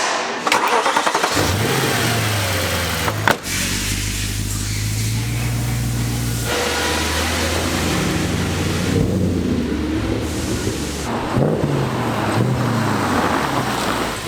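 An Audi RS4 fresh from a rocker cover repair cranks, fires and settles into a steady, loud idle, with a brief blip of revs near the start and the engine running on alone.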